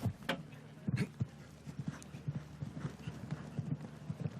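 A show jumping horse gallops in rhythmic clip-clop hoofbeats at the TSCHIO Aachen Rolex Grand Prix qualifier, the steady strides heard at moderate distance with faint arena ambience.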